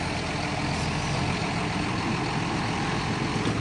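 A tractor with a front bucket idles nearby with a steady, loud low rumble and broadband mechanical noise that hold constant throughout, with no voices.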